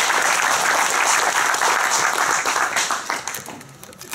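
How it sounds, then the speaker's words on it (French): Members at an association's annual general meeting applaud a colleague, a loud, close burst of crowded clapping that stays full and then thins toward the end. "on peut l'applaudir."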